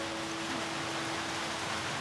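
Rain falls steadily as an even, continuous hiss, with a faint low hum running underneath and no voices.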